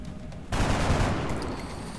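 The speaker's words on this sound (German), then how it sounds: "Ich schieß einfach." Game gunfire in XCOM: Enemy Within erupts as a sudden dense burst of shots, loud and sharp at first, then trailing into a rumbling noisy tail with no talking.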